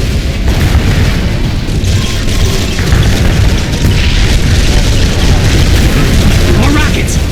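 Rocket explosions and booming blasts from an attack on an enemy base in the strategy video game Command & Conquer 3: Kane's Wrath, a dense, continuous barrage of loud impacts with no letup.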